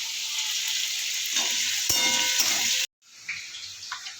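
Potatoes fry in hot oil with bay leaf, dried chilli and cardamom, a loud steady sizzle that cuts out abruptly near the end, then resumes more softly with small spitting crackles.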